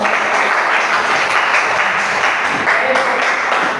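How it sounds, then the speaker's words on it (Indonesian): A classroom of students claps together in a dense, steady burst of applause that holds at an even loudness for several seconds, with no clear voices over it. "Oke, luar biasa. Tepuk tangan."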